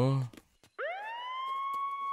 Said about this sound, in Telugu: అంబులెన్స్ సైరన్ కూడా పోయింది